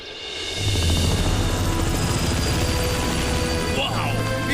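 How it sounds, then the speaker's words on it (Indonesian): A cartoon helicopter comes in loud with a fast, steady rotor chop and engine drone that holds for several seconds, with a brief swooping effect near the end. "Wow, itu helikopter Shuka."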